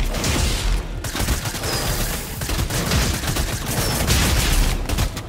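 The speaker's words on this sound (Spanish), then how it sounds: "de hecho, me está disparando" Rapid bursts of gunfire in the video game Fortnite, dense overlapping shots and fusillades crackling continuously at high level throughout, with no talking.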